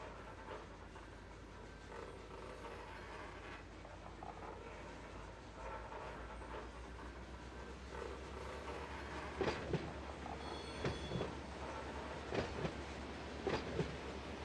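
Freight cars rolling through the Barstow hump yard in the Run 8 train simulator game, a low continuous rumble with wheel clicks and clanks as slack runs in, growing into several sharper knocks later on.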